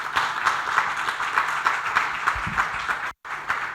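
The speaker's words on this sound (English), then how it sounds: "I'd like to please also add another applause" An audience at a health commission launch event applauds with steady, dense clapping of moderate loudness, broken by a brief dropout of near silence before the clapping resumes.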